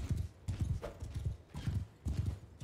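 Fast horse galloping in the Mount and Blade 2 Bannerlord video game, a steady run of close, loud hoof clip-clops in quick repeating bursts.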